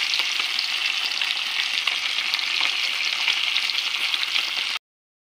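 Fish fries hard in a wok with onion and garlic, a loud, steady sizzle crackling without pause for nearly five seconds before cutting off abruptly.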